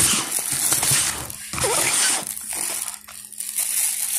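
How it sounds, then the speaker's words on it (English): Black plastic bag crinkling and rustling close up, continuous and fairly loud, with brief dips as it is handled. "I'm using a black plastic bag. I'm putting it in the black plastic bag, like so."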